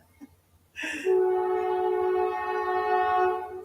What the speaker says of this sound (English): I can say here come the train